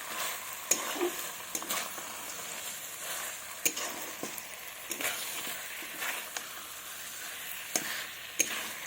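Goat meat curry with chopped tomato sizzles in a pan while being stirred, a constant close frying hiss broken by scraping spoon strokes and small clicks, with no talking.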